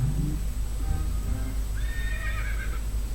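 A horse neigh sound effect from the Scratch sound library plays once as a drawn-out whinny, with its rising and falling trill standing out against a low background rumble.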